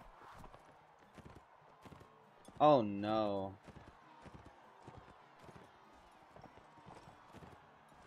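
Horse hooves from the medieval combat game Mount and Blade: Warband clop in a quick, regular gait, moderately near, while a man briefly exclaims partway through.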